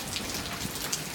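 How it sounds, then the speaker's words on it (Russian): Steady rain patters continuously, a dense even hiss with occasional louder drops. "Дождик."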